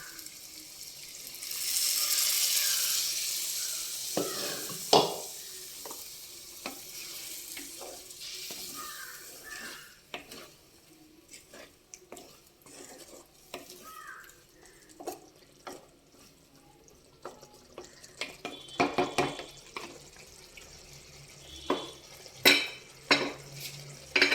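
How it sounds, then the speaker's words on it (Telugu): Mutton stock poured into a sizzling broad bean mutton fry in a Telugu-style home kitchen, a splashing pour followed by scattered stirring clinks and soft frying hiss, close and moderately loud with no talking. "ఇప్పుడు మటన్ ఉడకబెట్టిన వాటర్ ఉన్నాయి, అవి కొంచెం వేసుకుందాం"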